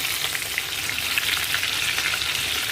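Ridge gourd fritters (gilki bhajia) fry over a high flame in hot oil, giving a steady, dense crackling sizzle that stays close and even throughout, with no voices.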